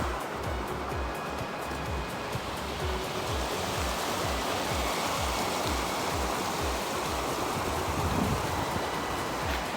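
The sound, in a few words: mountain stream flowing in Kyrgyzstan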